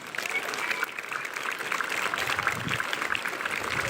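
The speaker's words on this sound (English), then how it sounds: "Another round of applause for Grandpa." A school Veterans Day audience claps for a Korean War veteran, a moderate, fairly distant patter of applause that holds steady throughout.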